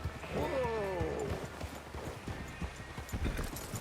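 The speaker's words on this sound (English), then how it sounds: "Hey, control that horse." A horse in the video game Red Dead Redemption 2 gives a sharp, descending whinny near the start, followed by steady hoof clip-clops on the ground, close by.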